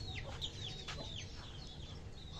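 Small chickens calling from close by, a few thin high chirps and soft clucks in a quiet run of about two seconds, with no voices.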